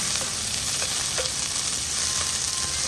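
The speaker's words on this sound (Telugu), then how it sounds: "పచ్చిమిరపకాయలు వేసి మనం కొంచెం ఫ్రై చేస్తాం." Green chillies fry in smoking-hot peanut oil, a loud, dense, unbroken sizzle crackling close up for the whole stretch with no voices.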